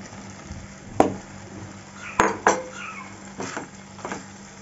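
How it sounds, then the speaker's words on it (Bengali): Marinated mushrooms dropped into hot oil in a pan for a mushroom curry, giving a soft steady sizzle broken by a few sharp clinks and scrapes of a utensil against the pan. "এখন এই সময় আমি মাশরুমটা দিয়ে দেব। মাশরুমটা মেখে রেখেছিলাম সেটা দিয়ে দিচ্ছি।"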